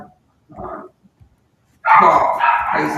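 A dog barks in a loud, close burst of several yips and barks after a couple of fainter whimpering sounds, in a quiet room.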